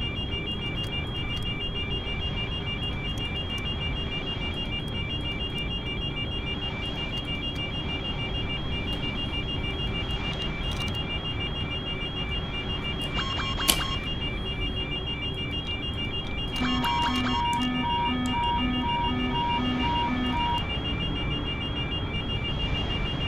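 Cockpit alarms in a PMDG 777-300ER in Microsoft Flight Simulator 2020 sound as steady repeating electronic tones over a constant hum, with extra pulsing chimes and beeps layered in partway through.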